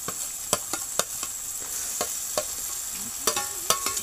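Mashed eggplant bharit drops into a pan of cooked tomato and sizzles steadily, with a series of sharp spatula clicks and scrapes spaced through the hiss.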